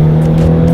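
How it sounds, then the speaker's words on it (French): A loud Dallara Stradale race car engine roars close by with a steady, droning tone as it pulls hard, filling the whole brief moment. "Ah mais c'est une voiture de course"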